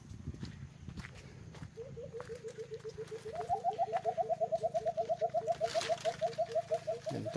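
Birds calling at dusk on a lakeside farm lot in Cavinti, Laguna, with a long run of rapid, evenly repeated calls that rise in pitch partway through and carry on steadily, fairly clear over faint background noise.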